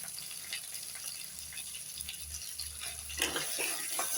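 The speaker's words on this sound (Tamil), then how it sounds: "வெங்காயத்தில் இந்த தக்காளியை போட்டுருவோம் தக்காளியை போட்டு இந்த உப்பை கொஞ்சம் போட்டுருவோம்" Tomatoes and salt frying with softened onions for drumstick gravy, a constant close sizzle with light stirring scrapes that grow a little louder toward the end.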